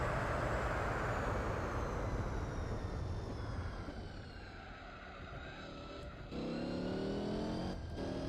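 A Volvo 240 Wagon races at Le Mans in Gran Turismo 4, its steady engine drone loud and continuous, easing slightly mid-run before surging back up as it accelerates again.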